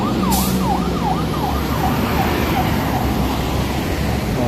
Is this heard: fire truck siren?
yes